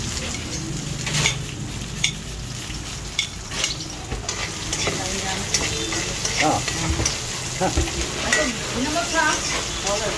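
Garlic browning with onion and onion leaves in a pan gives a steady close sizzle, broken by scraping stirs and the occasional clink of a utensil, with a voice talking at times over it.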